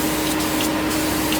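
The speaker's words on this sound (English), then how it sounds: "I lied, I'm using the aerosol can." An aerosol can sprays wax and grease remover onto a car trunk panel before splatter paint, a steady, close, continuous hiss with no talk over it.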